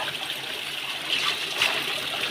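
Water trickles steadily from a water source at a connecting box, a continuous hissing flow at close range with slight surges in the middle and no voices.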